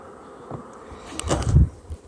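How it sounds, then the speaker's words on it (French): Bees crawl over a frame packed with bees at an open hive, giving a faint, low buzzing drone that swells briefly near the end, with no talk. "j'ai un cadre qui est plein d'abeilles"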